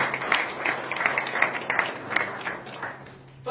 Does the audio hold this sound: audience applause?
yes